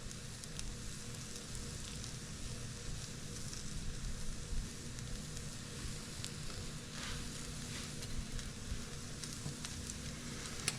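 Takoyaki batter sizzles and fries in an ebelskiver pan, a soft, steady crackle and hiss with faint pops, heard close and quiet with no talking.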